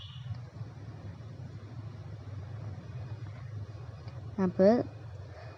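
An electric mixer beats eggs at medium speed for a brownie batter, giving a steady low motor hum throughout, with a brief spoken word near the end.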